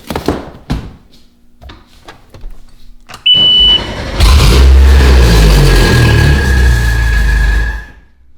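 A Minn Kota 318PC starts up after a few clicks and clunks, with a brief beep before a loud, steady engine roar that runs several seconds and then cuts off.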